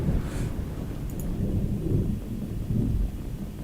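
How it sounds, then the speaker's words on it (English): Thunderstorm weather in the racing game Assetto Corsa: a steady low rumble of thunder rolls throughout with heavy rain hiss, swelling in a few louder surges, with no talking. "Thunderstorm, light thunderstorm"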